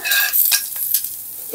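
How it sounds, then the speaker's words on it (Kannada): Cumin seeds fry in hot oil for a short burst of bright, crackling sizzle, with a few scraping stirs of a spoon in the pan and no voices. "ಇದೇ ಹೀಟಿಗೆ ಜೀರಿಗೆ ಫ್ರೈ ಆಗುತ್ತೆ"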